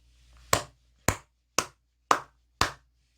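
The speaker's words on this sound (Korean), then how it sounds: "크게 박수 한번 치고 가도록 하겠습니다." Five sharp, evenly spaced hand claps ring out in a quiet room, each a crisp close slap with a short decay.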